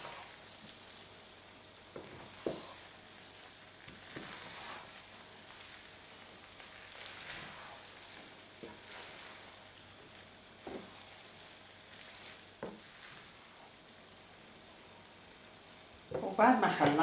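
Rice with fava beans stirred and frying in oil, a steady soft sizzle broken by occasional scrapes of a spoon against the pot, growing louder and busier near the end.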